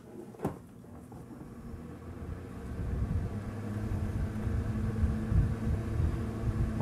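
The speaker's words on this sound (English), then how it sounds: "I'm going to turn on a fan, so sorry about the noise." An electric fan switched on indoors, a low steady whir that builds in after a single knock and then holds as a continuous rumbling hum beneath everything.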